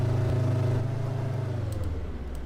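A car engine in a racing video game gives a steady, loud drone with a low rumbling hum and harmonic whine, slowly dropping in pitch toward the end, with no talking.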